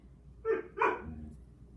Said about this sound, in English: You can probably hear my puppy barking in the background.